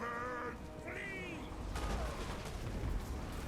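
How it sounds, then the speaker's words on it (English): Organ gun volleys ring out in a Total War: Warhammer 2 battle, a dense rattle of overlapping cannon-like shots layered over game music and ambient battlefield noise, fairly steady throughout. "the organ gun's definitely in range."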